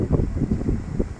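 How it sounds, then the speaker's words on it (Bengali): Strong wind at a riverbank buffets the microphone in low, uneven rumbling gusts that rise and fall throughout the short stretch, with no other sound standing out. "আর প্রচুর বাতাস নদীর পাড়ে"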